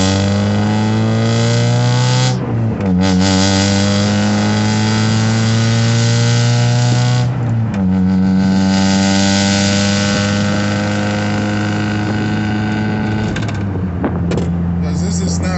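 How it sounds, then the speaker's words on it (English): A loud Mazda Miata engine roars while driving, its pitch climbing through each gear and dropping sharply at the shifts around three, eight and fourteen seconds, with a steady rasping exhaust drone throughout. "this is not the quietest car at all."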